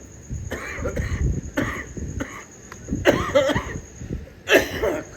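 A series of harsh, throaty coughs comes in several bursts, close by and fairly loud, with short pauses between fits.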